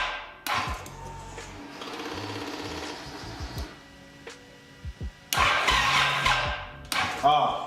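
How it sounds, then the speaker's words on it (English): Fuel pump priming on a Suzuki M109R motorcycle during a fuel pump install, a steady buzzing whir that runs for a few seconds, then stops and starts again, with voices talking in between. "So we do know that the fuel pump does prime."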